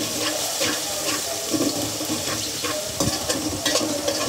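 Taro pieces stirred in a pan with bay leaves, a steady close scraping and shuffling with faint sizzle underneath and a few sharper utensil clicks against the pan, no voices.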